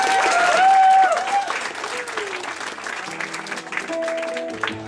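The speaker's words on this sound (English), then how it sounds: "So let's give a round of applause for them." Audience applause rises and fades over a few seconds, with a sustained tone and some crowd noise underneath.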